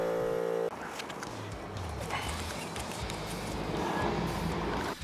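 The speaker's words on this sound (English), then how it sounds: "Then turn on the pump to fill it with air." An air pump runs steadily to inflate a flat tire on a Ford Mustang, giving a dense mechanical rattle and hiss after a brief hum at the start, close and constant throughout.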